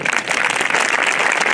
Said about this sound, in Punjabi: ਆਪਾਂ ਸਾਰੇ ਤਾੜੀ ਲਗਾ ਕੇ ਉਹਨਾਂ ਦੇ ਇਸ ਜਗ੍ਹਾ 'ਤੇ ਜੀ ਆਇਆਂ ਕਰਦੇ ਸਵਾਗਤ ਕਰਦੇ